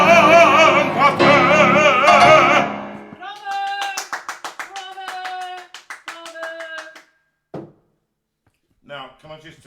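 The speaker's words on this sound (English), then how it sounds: "Were they clapping?" An audience claps along in rhythm in a live session in a Steinway piano room, quick bright claps following music, then thinning out to scattered claps and silence.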